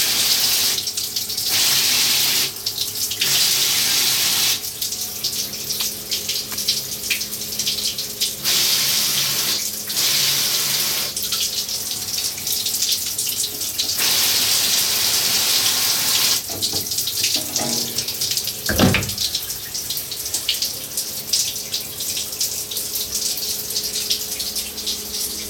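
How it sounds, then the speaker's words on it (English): Coolant gushes steadily from the coolant tank of a Tormach CNC mill, a loud, continuous tap-like splashing flow that holds throughout with brief surges and a sharp knock near the end. "That'd be about your average coolant flow."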